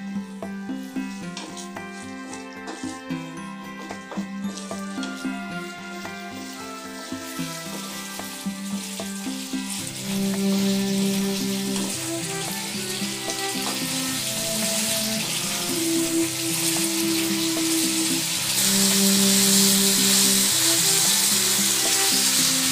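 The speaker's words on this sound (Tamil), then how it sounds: "ஒரு 5 நிமிஷம் பச்சை ஸ்மெல் போகிற வரைக்கும் நல்லா கொதிக்கி விடுங்க." Tomato ginger pickle bubbles and sizzles steadily in a pan, the frying growing louder and busier partway through, with faint clinks and kitchen hum beneath.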